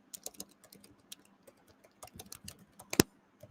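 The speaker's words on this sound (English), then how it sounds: "Let me type that." Quick clusters of clicks from fingers typing on a computer keyboard, irregular bursts of keystrokes with one sharper, louder tap near the end, close and alone without speech.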